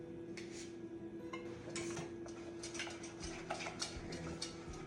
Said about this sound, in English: Keep stirring as you go, so your batter will be good